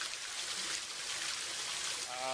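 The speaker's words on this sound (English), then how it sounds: "The sound of rushing water" Rushing water, a steady broadband wash of flow heard close and continuous for a couple of seconds, with no talk over it.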